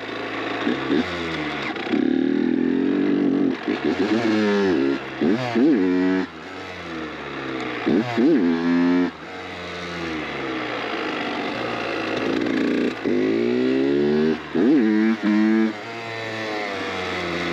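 A motorcycle engine in first gear revving and labouring at low speed, pitch rising and falling repeatedly as it pulls, loud and close throughout.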